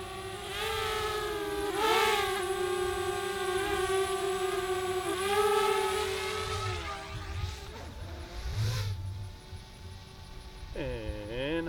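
DJI Spark drone flying past in sport mode, its high whining propeller buzz rising and falling in pitch as it approaches and recedes over a steady low hum.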